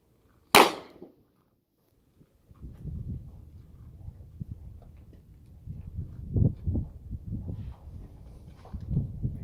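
A single sharp handgun shot cracks out loud and close during a firing-range training drill, followed by a quiet gap and then a long stretch of low rumbling movement and shuffling noise.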